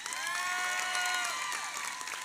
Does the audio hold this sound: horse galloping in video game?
no